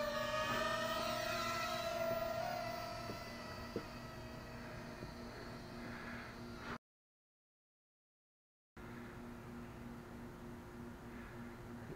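A Holy Stone F180W mini FPV drone whirs as it climbs, a steady high-pitched buzzing hum with shifting tones and wind noise, broken by a brief gap of silence.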